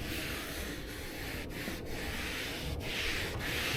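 An applicator rubs Yum Cars Trim Serum coating onto textured plastic engine-bay trim under light pressure, a steady soft scrubbing hiss with a few brief breaks in the strokes, close and quiet, with no voices.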